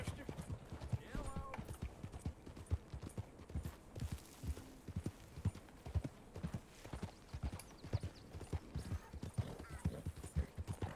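Horse hooves clip-clop in Red Dead Redemption 2, a steady, soft, rhythmic trot that runs throughout at low volume, with a brief whinny and a voice speaking over it at moments.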